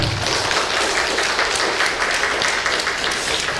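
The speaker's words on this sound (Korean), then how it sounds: "박수 한번 드리겠습니다" A church congregation applauds after a testimony about a mission trip, a dense, steady wash of clapping filling the short stretch at close range.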